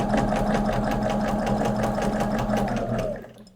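A sewing machine stitches quilt pieces in a fast, even mechanical whir with rapid regular needle beats, close and loud, stopping near the end.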